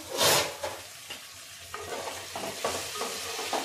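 Tamarind pulp frying and being stirred in a pan for vangibath, with a sharp sizzle at the start and then repeated soft scraping stirs over a low, steady frying hiss.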